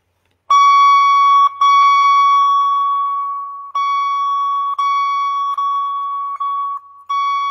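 A steady high-pitched electronic tone holds loud and alone near the same pitch, with faint overtones, broken by a few short dropouts and slight dips in level over several seconds.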